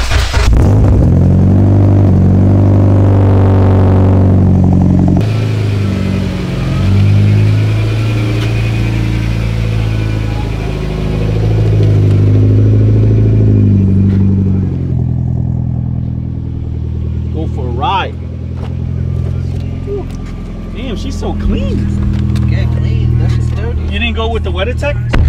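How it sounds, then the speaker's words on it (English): A car engine with an STM exhaust cold-starts, cranking and catching, then revs loudly several times before settling into a rough idle, with people talking nearby. "all right, we're gonna get a cold start."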